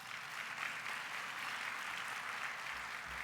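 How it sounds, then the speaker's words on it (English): A round of applause at a convention unity luncheon for corporate sponsors, steady crowd clapping heard from a distance that continues evenly throughout. "Let's give them a big round of applause."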